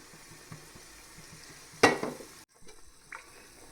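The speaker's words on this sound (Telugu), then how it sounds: "ఇప్పుడు మనం పాన్ పెట్టుకొని ఆయిల్ వేసుకుందామండి" Cooking oil poured into a hot pan on a kitchen stove before cashews are fried: a single sharp splashing burst that fades within about half a second, followed by a low hiss and soft clinks.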